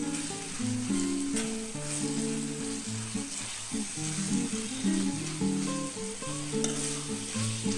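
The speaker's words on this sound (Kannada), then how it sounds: "ಕ್ಯಾಪ್ಸಿಕಮ್ ಹಾಕಿದ್ಮೇಲೆ ಒಂದು ಎರಡು ನಿಮಿಷ ಚೆನ್ನಾಗಿ ಬೇಯಿಸ್ಕೊಳ್ಬೇಕು" Capsicum sizzling and frying in an oil-filled pan for capsicum rice, a steady close crackle with occasional stirring scrapes, alone without voices.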